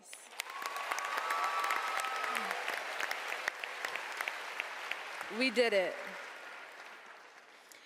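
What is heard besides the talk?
applause for the graduating class of 2018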